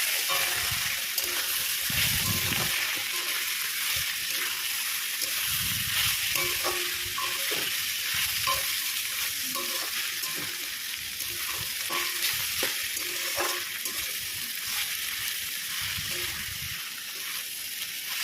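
Chopped bottle gourd fries and gets stirred in a pan for a sweet Bengali shukto, giving a steady close sizzle throughout with occasional scraping stirs and no talk.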